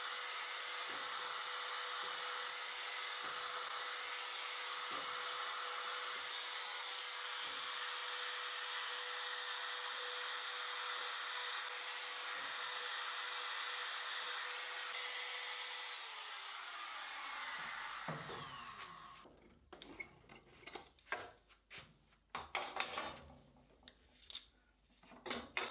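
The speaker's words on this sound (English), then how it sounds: "I'll be routering them out with a trim router with an 1/8 inch cutter in it" A trim router fitted with a 1/8 inch cutter whines steadily while routing hinge slots in wood for a ring box, loud and close for about seventeen seconds, then winds down to scattered clatter and handling knocks.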